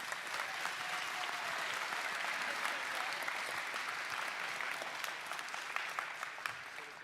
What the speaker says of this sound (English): How about a round of applause for our FTA,